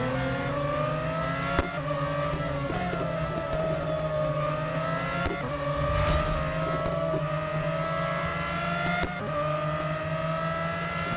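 Racing car engines in the mobile racing game Real Racing 3: a steady, loud whine of engines revving and shifting through gears, with rising and falling tones and occasional sharp clicks, running continuously without speech.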